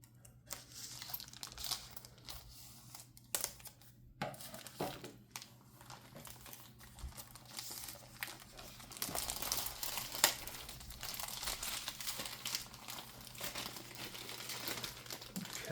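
Plastic wrapper on a Star Wars CCG Premiere Limited starter deck box being torn and peeled open, with close, continuous crinkling and crackling that grows louder and busier, no talk.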